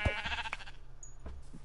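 Sheep bleating in Minecraft on PlayStation 4, a couple of short wavering bleats up close with game ambience in between and no talk.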